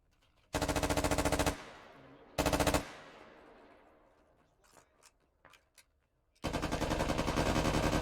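Machine gun fire in a video game, long-range bursts: a loud sustained burst, a short second burst, scattered faint distant shots, then another long loud burst to the end.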